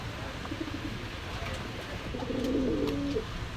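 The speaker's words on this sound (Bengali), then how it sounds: "এক পেয়ার গলার লাল কবুতর, দেখলেই বুঝতেছেন" Red-necked high flyer pigeons coo softly nearby, with a short early coo followed by a longer rolling coo over a steady background hum.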